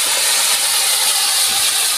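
Water poured into hot, fully cooked spiced mustard masala for a Bengali pabda fish curry gives a loud, steady steaming hiss that fills the whole moment without pause.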